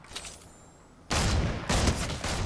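Bursts of assault rifle gunfire in the video game Fortnite, loud and dense, breaking out after a quieter opening and continuing in sustained volleys with a brief pause between them.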